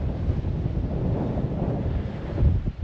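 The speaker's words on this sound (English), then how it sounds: "it's blinking windy" Steady, loud wind roaring and buffeting against the microphone while bikepacking around the Kintyre peninsula, a continuous rushing gust with a stronger burst near the end.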